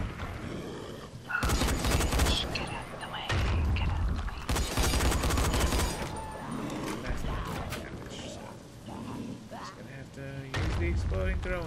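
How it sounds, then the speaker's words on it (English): Exploding throwing stars in Dying Light go off in repeated loud blasts and crackling bursts, separated by short lulls, in a chaotic game scene. "Exploding throwing stars."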